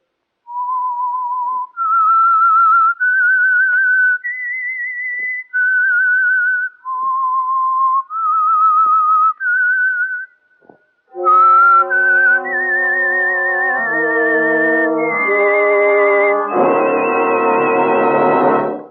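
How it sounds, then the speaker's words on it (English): The whistled theme of the 1948 radio drama The Whistler: clear sustained notes rising and falling, briefly pausing, then joined by a full orchestral swell that builds loudly to the end. "That whistle is your signal for the Signal Oil program"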